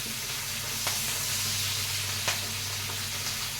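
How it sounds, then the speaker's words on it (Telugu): Onions, tomato and curry leaves fry in a pan with a steady, close sizzling hiss, broken by a couple of brief soft knocks, with no talking. "ఉల్లిపాయలు వేసినాయి కదా టమాటా కరివేపాకు ఇప్పుడు వేగిపోతుంది"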